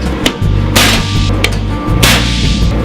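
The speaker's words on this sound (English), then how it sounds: "I'm going to throw a center punch in betwixt these" A hammer strikes a steel center punch to mark drilling spots while anchoring a striking anvil, giving a few sharp, loud metallic cracks close up with a faint steady hum between them.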